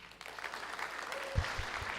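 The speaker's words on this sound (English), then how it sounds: "Round of applause for the final speaker of Coronation College" Audience applause at a 2011 school debate semi-final between Lae Secondary and Coronation College rings out for the affirmative team's final speaker, a steady moderate patter of many hands with a few louder claps near the end.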